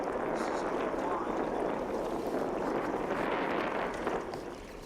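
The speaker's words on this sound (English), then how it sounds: "That's the wind blowing." Wind buffets an unprotected camera microphone beside a big pond, producing a loud, continuous rumbling roar that fades slightly near the end.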